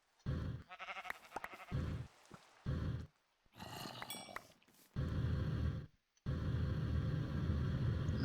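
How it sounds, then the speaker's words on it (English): Sheep bleating in the video game Forever Stranded, several bleats in bursts with brief gaps, mixed with steady rain-like ambient rumble and game sounds. "There's another sheep."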